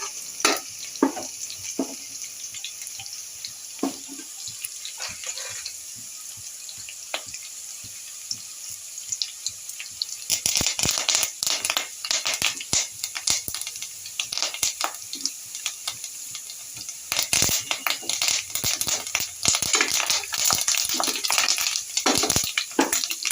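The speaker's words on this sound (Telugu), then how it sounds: "ఇవైతే మంచిగా వేగుతున్నాయి కదండి కరివేపాకు కూడా వేసుకుందాం" Curry ingredients for an ivy gourd pulusu fry in a pan with scattered crackles and scraping that swell into a denser, louder sizzle about halfway through, when curry leaves go in. Another rise comes near the end, and no one speaks.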